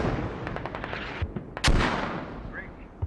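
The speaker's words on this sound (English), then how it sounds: "Mortars going straight on the smokes." Mortar fire and explosions in the military shooter Squad: several sharp reports in quick succession, then one loud, close blast with a rumbling tail, over a dense battlefield background.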